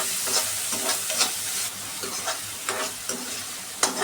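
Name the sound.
onion and chili sautéing with garlic in a wok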